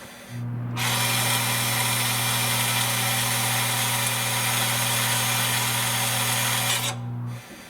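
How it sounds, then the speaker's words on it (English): An electric parking brake motor on the rear of a Toyota or Lexus whirs steadily as it unwinds in brake service mode, a loud constant motorized drone lasting several seconds before stopping abruptly. "brake motor right now will unwind all the way"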